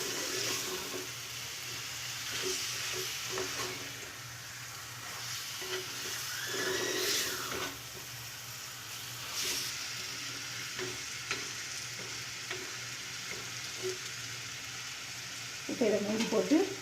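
Chicken fries in a clay pot for chicken kuzhambu, a soft steady sizzle under occasional stirring scrapes and light clatter, fairly quiet and close, with a louder rattle near the end.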